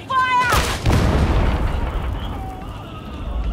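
Heavy gunfire and explosive booms erupt in Warhammer 40,000 Darktide co-op combat, a loud burst early on followed by rumbling blasts and lingering noise, with a voice briefly heard among the action.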